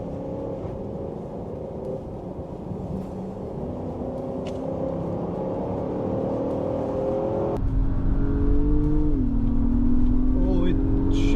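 A 2024 Acura MDX Type S and a Dodge Durango Hemi accelerate side by side in a rolling drag race. Engine tones climb steadily, drop sharply at a gear shift partway through, then rise again, growing louder toward the end.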